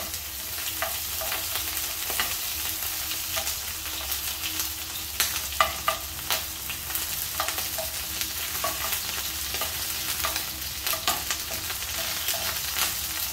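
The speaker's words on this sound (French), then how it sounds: "J'y dépose mes quartiers d'endives. Donc là, on les marque en cuisson." Endive quarters sear in olive oil in a frying pan, giving a steady loud sizzle throughout with occasional crackles and pops and light stirring or utensil sounds, no talking.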